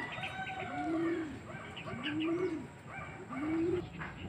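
Racing pigeons at a loft give three rising, rolling coos at a steady rhythm, close and clear over faint background noise.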